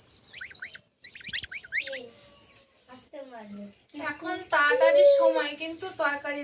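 Goslings peep in quick, high chirping bursts at the start. A person then talks over and after the calls in a Sundarban riverside home setting.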